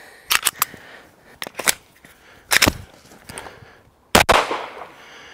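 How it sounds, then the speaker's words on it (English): Pistol shots from a Glock fitted with a Trijicon red dot optic during a torture test, a series of sharp cracks in uneven bursts with a final louder shot, no talk. "And we got one shot and a malfunction."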